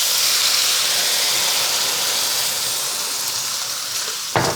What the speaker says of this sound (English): Pop a little sauce.